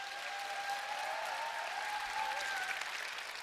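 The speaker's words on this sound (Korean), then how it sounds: "내려가라는 박수 같은데요?" Steady audience applause fills a seminar hall in Busan, dense and continuous with a faint cheer or whistle riding over it, sustained evenly without pause.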